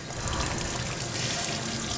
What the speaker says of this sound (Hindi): पानी में हाथ डालिए।